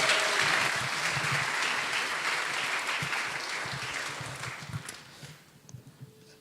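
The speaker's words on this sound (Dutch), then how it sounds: "Geef ze een flink applaus." A church congregation at a Sunday service claps together in steady, dense applause that gradually thins and fades out near the end.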